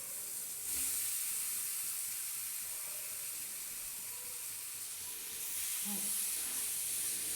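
Cauliflower fries in oil with onion and chopped ginger over low gas, giving a steady, soft hiss and sizzle throughout, with a faint voice briefly underneath.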